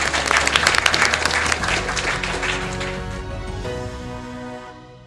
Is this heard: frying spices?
no